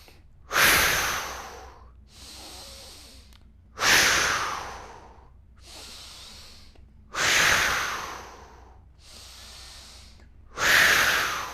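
Deep breaths drawn in during a breath-work exercise, four long, strong inhalations roughly three seconds apart, close and loud, each followed by a quieter exhale, with no talking.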